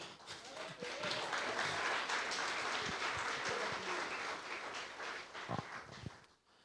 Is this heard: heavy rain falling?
no